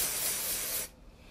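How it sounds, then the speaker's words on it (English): Dry shampoo sprays at the hair roots in one close, steady aerosol hiss lasting under a second before cutting off sharply into quiet. "Take your dry shampoo and spray it at the root."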